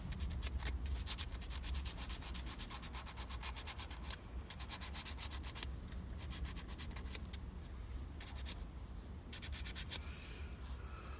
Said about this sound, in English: I'm going to sand this a little bit, get the coating off